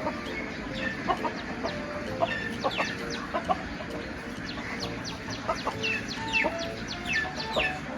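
Chickens clucking in an outdoor yard, with repeated short calls scattered at a moderate distance over steady background noise.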